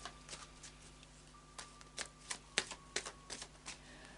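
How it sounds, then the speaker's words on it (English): A Light Seers Tarot deck being shuffled by hand, with a quick run of soft, papery riffles and taps repeating at an uneven rhythm, close and fairly quiet over a faint steady background hum. "a final shuffle of the Light Seers Tarot"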